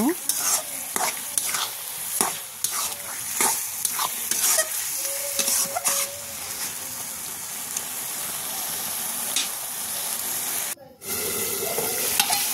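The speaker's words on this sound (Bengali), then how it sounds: "ভালো করে নেড়ে চেড়ে আমি মাংসটা ভালো করে কষিয়ে নিব" Meat sizzles in hot oil while being stirred, a dense continuous hiss with frequent sharp scrapes and clinks of a spatula against the pan, a brief dropout near the end, and no clear talk.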